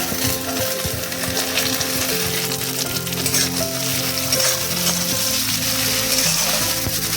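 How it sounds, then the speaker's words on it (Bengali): Grated coconut sizzles steadily in a pan with onions that have been fried light red, a continuous close frying hiss, with faint tonal hum and clinks underneath. "এই যে নারকেল মানে কুচিয়ে রেখেছিলাম, সেগুলো আমি দিয়ে দিচ্ছি এর মধ্যে।"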